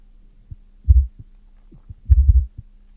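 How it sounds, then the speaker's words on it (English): Synth bass processed through the diode clipper shaper in Ableton's Roar plays two deep, booming low hits, each swelling then fading. Near silence falls between them. "The one I find that gives it the kind of like the biggest warmth to the sound is the diode clipper."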